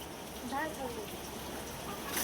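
Steady rain pours down on a village, a constant close hiss of drops on surfaces with faint voices murmuring underneath.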